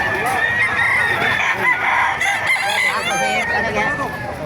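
Several roosters crow loudly and repeatedly over a dense background of clucking chickens at a poultry market in Bocaue, Bulacan, close by and continuous.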